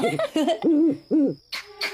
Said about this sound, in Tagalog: Lucas, kuwago yun